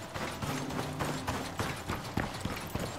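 Horse hooves clip-clopping while riding across a desert biome in the survival game Icarus, an uneven run of muffled thuds over a noisy game backdrop, with no one talking.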